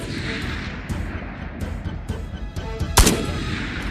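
Gunshots in the VR shooter Ghosts of Tabor: faint distant pops and cracks sit over steady background noise, then one loud, close sharp shot rings out near the end.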